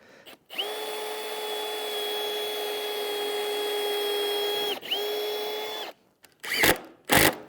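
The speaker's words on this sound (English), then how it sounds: "I need to pre-drill into our 6x6 brackets." A power drill pre-drills into 6x6 brackets for an off-grid post-and-beam barn in the woods, giving a loud, steady whine for about four seconds, a short pause, one more shorter run, then two brief rough bursts.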